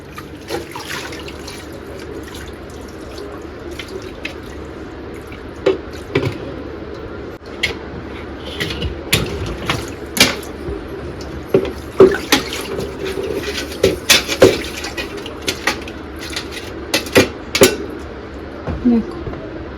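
An item sits in a basin of water and is scrubbed with a brush, giving sloshing and irregular brushing scrapes and splashes close by, with someone talking over it.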